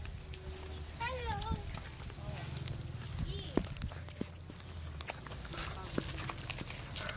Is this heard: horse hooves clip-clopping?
yes